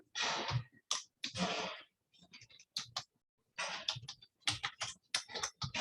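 Typing on a computer keyboard comes in irregular bursts of close, crisp clattering keystrokes with short pauses between runs.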